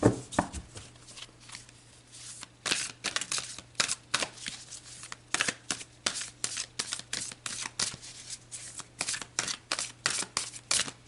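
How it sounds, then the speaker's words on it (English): Tarot cards being shuffled by hand, a steady series of crisp riffling and slapping bursts, close and fairly quiet, with a faint low hum underneath and no talking. "All right, so let's pull you a couple of more cards."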